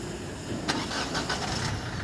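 Car fitted with an immobilizer chip started by remote control: a brief starter crank catches into a running engine, close and fairly quiet, over about two seconds.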